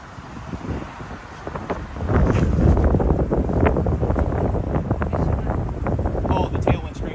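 Strong wind gusting across an open disc golf course in Fairhope, a loud rushing buffet against the microphone that swells after a quieter start and keeps roaring steadily, with a faint voice beneath it.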